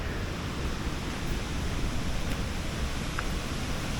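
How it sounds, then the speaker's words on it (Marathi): A full Savatkada waterfall in the Konkan rushes with a constant, even hiss and roar of falling water, sustained and fairly loud throughout, with nobody talking. "पाण्याचा आवाज देखील खूप येतो आहे"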